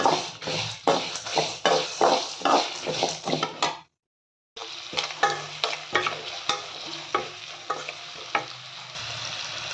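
Spices for bisi bele bath powder are dry-roasted in a pan and stirred steadily, each scrape sounding over a soft sizzle in a rhythmic pattern, with a short silent gap midway and no speech.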